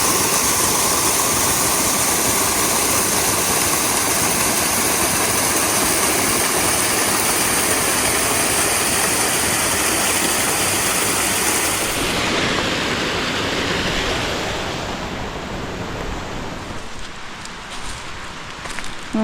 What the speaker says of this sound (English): So that's an unnamed creek.